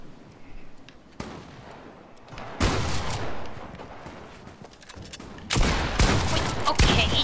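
Video game gunfire erupts in heavy, loud bursts that start abruptly and sustain for a few seconds each, over a low background rumble.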